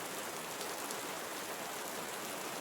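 Tropical rainforest rain in Costa Rica, falling as a steady, even hiss of countless drops that fills the whole clip without pauses or voices.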